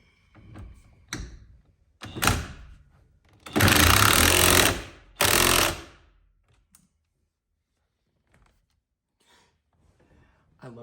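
Torque wrench ratcheting on the steering wheel nut of a 2001 Jeep TJ, a few short clicky strokes building into two loud sustained ratcheting runs, close by, then near silence with faint handling noises.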